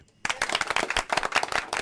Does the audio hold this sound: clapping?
yes